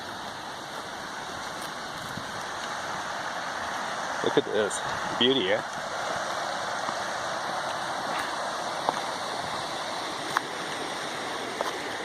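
Steady broadband rush of flowing water near a pine grove campsite in Kananaskis fills the background throughout, with a person speaking briefly over it.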